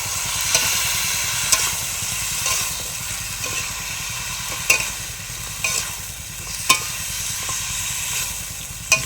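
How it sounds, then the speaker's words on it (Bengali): Curry frying in a pan with turmeric and salt at an outdoor picnic beside the Sundarbans forest, a steady close sizzle broken by sharp scrapes and knocks of a stirring spoon every second or so. "এটা এখন ভালোভাবে একটুখানি কষাই নেবে, তাই তো?"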